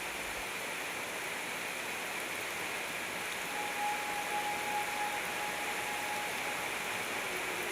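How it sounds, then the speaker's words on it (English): Steady broadband rush of a 52-foot, two-tier waterfall at Sentinel Rock in Arkansas, plunging into a pool, heard as a constant even roar throughout with a faint thin tone drifting in midway. "Sentinel Rock is a spectacular 52-foot-tall, two-tier waterfall that Brian named after the lone rock in the"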